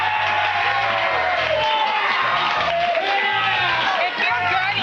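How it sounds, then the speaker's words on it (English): A studio audience on the TV tech show Attack of the Show claps and cheers loudly and continuously, whoops and shouts rising over the applause while a host talks over the crowd. "You don't stop clapping."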